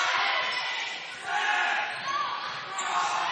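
A high school volleyball crowd at a 2A sub-state match doing the Gator chomp chant, a dense, steady roar of many voices with rhythmic surges, heard alongside a commentator talking.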